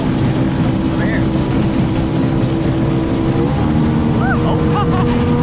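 A motorboat with stick steering runs its engine as throttle is applied, a steady loud drone with wind buffeting throughout and brief voices and water sounds over it.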